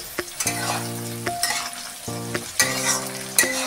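Capsicum sizzles in oil in a pan for fried rice, stirred with a spoon that scrapes and clinks against the metal in irregular bursts over a continuous close frying hiss.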